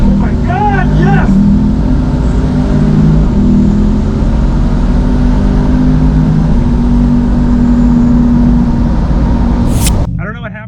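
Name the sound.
twin turbo car accelerating on drag race run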